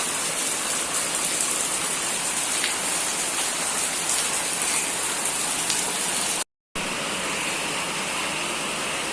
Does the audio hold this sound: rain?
yes